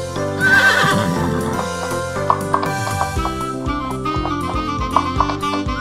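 A cartoon horse at an amusement park whinnying loudly at first, then galloping with clip-clop hoofbeats over a musical backing, clear and close.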